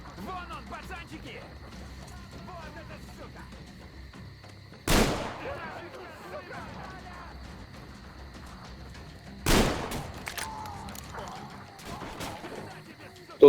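Two sharp gunshots crack out several seconds apart over continuous chatter and a steady background hum, in the video game Metro Exodus.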